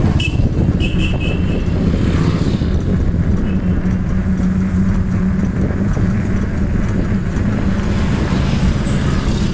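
A big motorcycle approaches on a busy road, its steady engine rumble blended with continuous traffic noise heard from a moving electric bicycle, with a faint horn-like tone early on.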